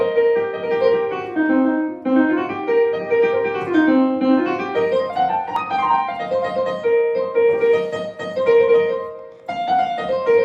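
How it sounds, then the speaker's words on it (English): A blues scale played on piano, with single notes climbing and falling in a steady, clear line, close and loud and alone, repeated across several runs. "So a blues scale, that sounds like this."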